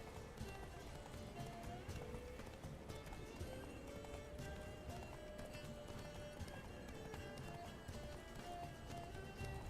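In The Witcher 3, a horse gallops with rapid rhythmic hoofbeats under a dense, busy game soundscape, with a whinny and faint voices blended into the steady mix.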